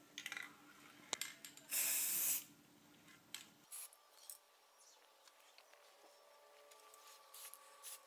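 Spray paint hisses through a mesh onto a gun for snakeskin camo stripes, one short loud burst lasting under a second, followed by faint handling clicks and rustles with no talking.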